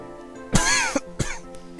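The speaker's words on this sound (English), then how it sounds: "Sorry for coughing into the mic." Two harsh, throaty coughs burst close into a microphone during a Final Fantasy 8 let's-play session, the first longer and louder, the second shorter, over a quiet background hum.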